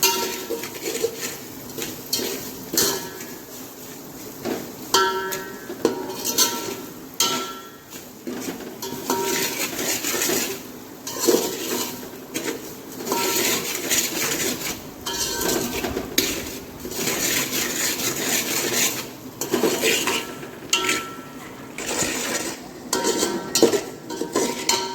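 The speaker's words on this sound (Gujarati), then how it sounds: "આ બધાને સરખી રીતે સાંતળી લઈશું ધીમા ગેસે." Ingredients for makkai na dhokla being sautéed in a pan on a low flame, with constant close clinking and scraping of a metal spoon against the pan and only a faint sizzle underneath.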